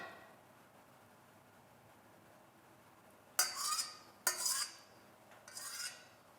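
Honey cake batter for Polish Christmas baking is stirred in a bowl: a quiet stretch, then three bursts of spoon scraping and clinking against the bowl, close and fairly loud.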